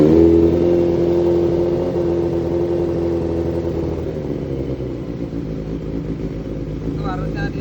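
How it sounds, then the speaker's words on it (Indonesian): A motor runs at a steady idle while its three-phase battery charging system is tested, a low rumbling hum with a faint whir that holds close and even throughout. "Terus untuk ngetes cara hidupnya bisa sambil dihidupin mesinnya."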